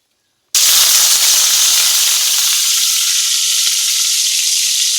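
Chopped green chillies hit hot soybean oil in a wok with a sudden loud, steady sizzle that starts abruptly and keeps a dense crackling hiss throughout, with no one talking.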